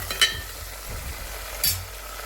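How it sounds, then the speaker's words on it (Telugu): Brinjal pieces frying in oil with green chillies sizzle softly and evenly, with two brief scraping stirs from a utensil and no voices. "ఇదిగోండి పచ్చిమిరపకాయ చక్కగా వేగిన తర్వాత ముందు వంకాయ ముక్కలు వేసేసుకున్నాను ముందుగా"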